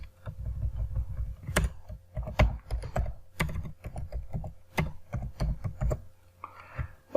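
Computer keyboard keys clatter in quick, uneven bursts of typing as HTML code is entered, close and fairly loud, with short pauses between runs of keystrokes.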